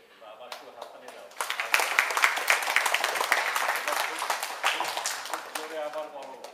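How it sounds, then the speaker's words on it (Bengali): An audience at a reception in New York, held by Udichi in 2015 for Abdul Gaffar Chowdhury, claps in a sustained, dense round of applause that swells after a quiet start. "আবার একটু হাততালি দাও"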